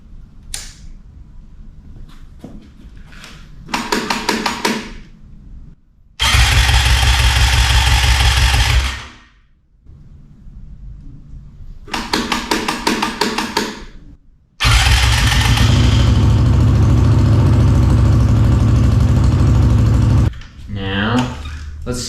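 A 2006 Honda 450ER motorcycle engine, turning over in short cranking bursts and then catching, its loud idle rumbling close by through two long stretches.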